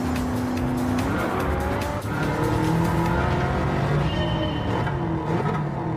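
A Bugatti Chiron of about 1850 horsepower roars loudly and continuously in Gran Turismo 7, its engine note rising and shifting through gears with tire squeal, close and without talk.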